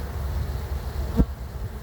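A steady, droning hum of honeybees at a hive fills the whole stretch, with a brief louder thump partway through.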